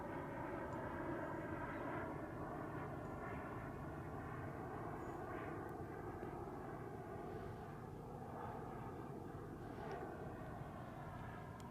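A Krill Ares twin-jet RC model plane on its maiden flight gives a steady, fairly faint turbine whine and rush from a distance. The sound rises and falls slightly as the plane passes, and no one speaks.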